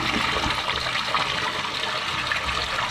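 Water gushes steadily into a bathtub being filled, a loud, continuous rushing and splashing that holds from start to finish with no talk over it.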